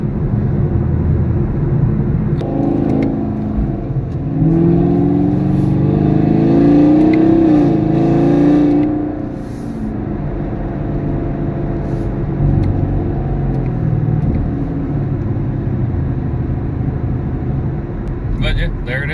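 Camaro SS V8 running on 100% E85 accelerating hard in town, a loud engine roar building and peaking mid-clip under in-car talk, then settling to a steady cruising drone.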